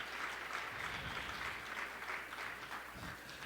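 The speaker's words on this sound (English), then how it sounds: "Give Mary Gay Scanlon, Madeline Dean, Dwight Evans, Brendan Boyle a huge round of applause" A room of attendees at a Pennsylvania delegation breakfast meeting applauds steadily, with dense, even clapping filling the whole stretch at a close, full level.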